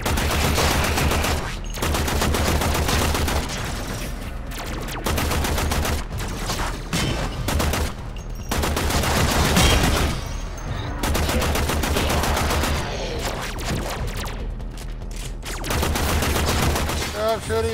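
Primary weapon fire in Warframe on Xbox One during a weapon proficiency training test, with near, loud, sustained bursts of rapid automatic shots broken by brief pauses and continuing throughout.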